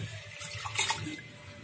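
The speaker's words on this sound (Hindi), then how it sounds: "इसको चलिए और अच्छे से हम धो लेते हैं, धो लिए हैं लेकिन फिर भी और अच्छे से धो लेते हैं एक पानी के लिए।" Soaked chana dal is washed in a bowl of water, with close sloshing and splashing swirls, a brief brighter splash midway, moderately loud.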